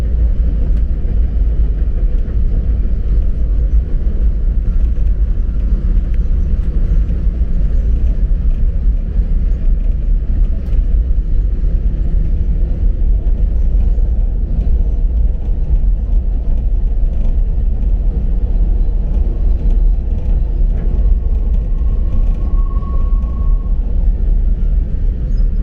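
A Lehigh Gorge Scenic Railway train, heard from inside a Superdome car, rumbles along the gorge in a continuous low, heavy drone with faint rattles and a brief high squeal near the end.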